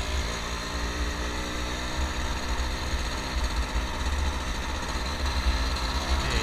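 Near and steady, a Yamaha Force One 110cc motorcycle engine idles with a continuous low rumbling drone that barely varies and carries no speech over it.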